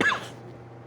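One short, close cough from a man with a cold, a single dry burst that fades quickly into a quiet room.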